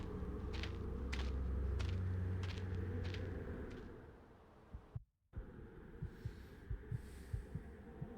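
A heartbeat sound effect from the video game Dracula 3: The Path of the Dragon thumps in a steady, deep rhythm under a low hum, becoming sharper and more separated after a brief dropout.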